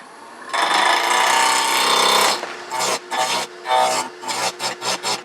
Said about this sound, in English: This is a piece of Bradford pear. I'm going to turn it around real quick.